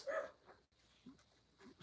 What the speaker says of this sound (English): I don't know which dog is barking